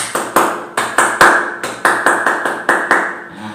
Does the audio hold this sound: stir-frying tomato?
no